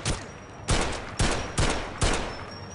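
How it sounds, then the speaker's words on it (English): Gunfire in a James Bond-style video game, heard as four loud, sharp shots spaced about half a second apart, each with a short decaying tail and no voices. "I'm being shot at."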